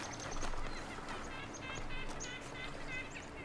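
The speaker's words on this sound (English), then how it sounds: "It sounds a bit like ducks." Quacking, duck-like wildlife calls in the video game The Talos Principle 2, in a flooded valley: a series of nasal, repeated honks and chirps over a soft ambient background, moderately close and fairly quiet.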